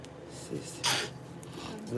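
A single sharp sneeze bursts out close by, brief and loud against a quiet room, with faint murmuring voices around it.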